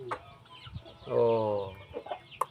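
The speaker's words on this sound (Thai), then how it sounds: "มีแต่ไก่เยียทางนั้น" Chickens cluck and call close by on a small village farm, their calls swelling into a loud run of clucking in the middle, with a man's brief exclamation at the start.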